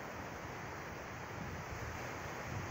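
Waves wash onto a beach in Greater Accra, Ghana, as a steady, soft surf roar with wind rumble on the microphone, continuous and fairly faint, with no voices.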